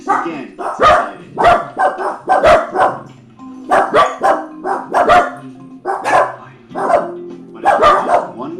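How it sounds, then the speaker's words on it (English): Pet dachshunds bark repeatedly at close range, loud clustered bow-wows and yips coming in uneven bursts across the whole stretch with only brief pauses. "I would like to point out that the dog hardly barks at all"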